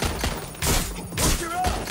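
Rapid bursts of automatic gunfire crackle through a firefight in the video game Watch Dogs: Legion. The volleys come in loud, dense clusters with brief gaps, and a few shouted voices sound in between.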